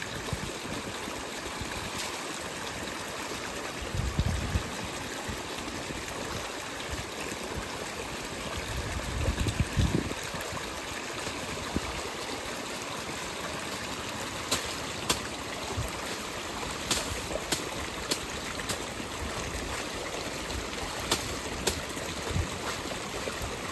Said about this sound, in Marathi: अशा प्रकारे धुतलं जातं भात.